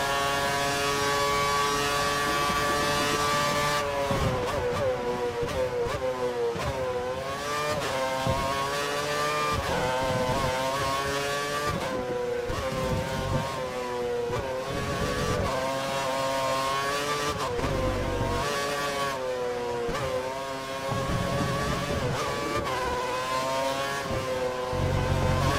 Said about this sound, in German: Der Motor hört sich an, als würde er gleich einen Sprung aus dem Fenster machen